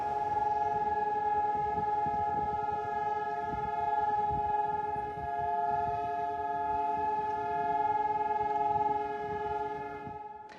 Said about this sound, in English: the siren will be heard, and we're hearing it right now as it is 11 o'clock.